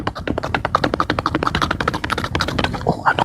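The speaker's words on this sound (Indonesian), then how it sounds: "ngetik dia sekarang ngetik" Someone types on a computer keyboard in a rapid, uneven run of close, crisp key taps with brief pauses, heard alone without voices.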